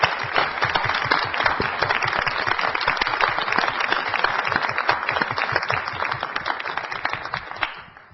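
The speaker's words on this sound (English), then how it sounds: "we all ought to give a round of applause" Sustained applause from a meeting audience fills the room steadily for about eight seconds, dense overlapping claps at an even loudness that trail off near the end.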